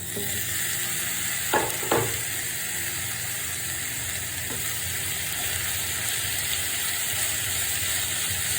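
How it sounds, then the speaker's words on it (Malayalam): Finely chopped ginger frying in oil for ginger pickle, a steady hiss of sizzling fat throughout with a couple of brief scrapes of a spoon near the start, otherwise an even continuous frying sound. "ഇനി നമുക്ക് ആ ഇഞ്ചി പൊടിയായിട്ട് അരിഞ്ഞതങ്ങ് ഇട്ട് കൊടുക്കാം"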